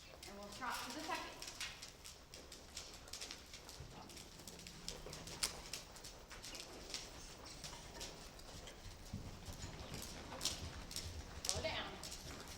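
A horse trots forward between barrels in an arena, its hooves giving a steady, fairly faint rhythmic clip-clop under a rider's talk.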